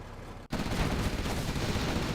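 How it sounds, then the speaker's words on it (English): Gatling cannon and minigun fire in a Command & Conquer Generals Scorched Earth 1v1 match, a dense, loud, continuous roar of rapid shots with a brief cutout near the start, then unbroken fire to the end, with no voices. "Tumstep walks his army into a Gatling cannon though"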